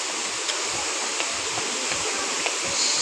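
Steady broadband rush of the Sanghagara waterfall at a picnic spot, a continuous close roar of falling water with no voices and only faint brief splashes rising above it.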